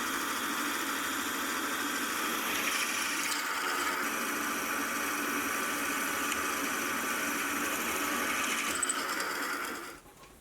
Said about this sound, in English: I'll drill the holes for the pins which the wheels are going to spin on.